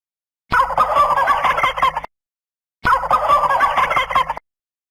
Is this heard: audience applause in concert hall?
no